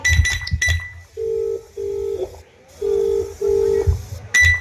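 A telephone line rings in repeated paired tones, with brief talking at the start and again at the end.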